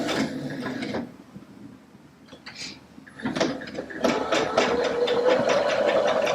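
Baby Lock Allegro sewing machine stitching out a combination stitch, a rapid mechanical whirring and chatter that starts, drops away for a couple of seconds, then resumes louder and steady to the end.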